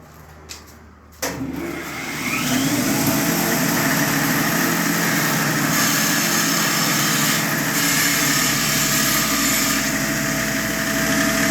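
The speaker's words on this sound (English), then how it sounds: "First thing I got to do is go over here, touch this on the sander real quick." A bench sander starts up and runs at a steady high whine while the end of a metal truss rod is touched against it for fabrication, with a constant loud motor drone throughout.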